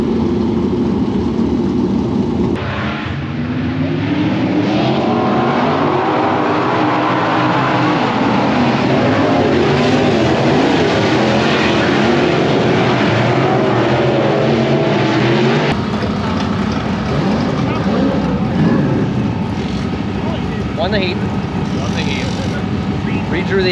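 A dirt track modified race car engine idles and revs loudly up close, a rough mechanical rumble with rattling, ratchet-like clatter that stays dominant for the whole stretch. A voice talks intermittently underneath.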